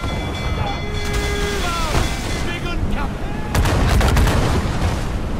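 Cannon fire from an enemy ship strikes the player's vessel in a naval battle in Assassin's Creed Freedom Cry, with booming hits and a crashing burst of impact amid steady sea-battle noise and game music tones.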